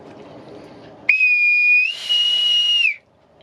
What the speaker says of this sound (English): It's a bosun's whistle as a wedding present.